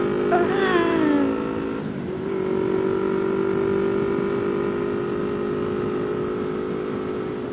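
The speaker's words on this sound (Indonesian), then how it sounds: "Emang nggak kedengeran lagi apa ini bunyi knalpot CMT gitu" A motorcycle with an aftermarket CMT exhaust revs up and down with a raspy note, then settles into a sustained drone; faint voices and horns sit in the background.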